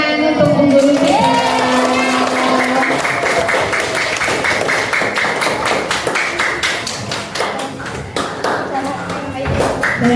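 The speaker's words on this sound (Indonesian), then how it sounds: "Monggo Bu Guru, beri tepuk tangan untuk Bu Guru kita." Pupils in a grade-four classroom clap for their teacher. A run of quick, sharp hand claps starts a few seconds in and carries on steadily, close and fairly loud, while people talk over it.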